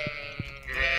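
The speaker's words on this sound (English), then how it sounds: "Sheep, how are you?" A sheep in the farming video game Stardew Valley gives a short, clear bleat, close and alone.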